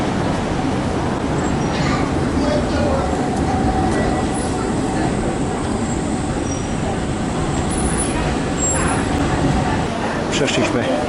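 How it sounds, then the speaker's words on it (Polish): Tram number 22 passes a tram stop on a Prague square, giving a continuous rolling rumble with faint squeals from the rails amid street noise, while someone talks over it. "Przystanek tramwajowy. O, tutaj tramwaj 22."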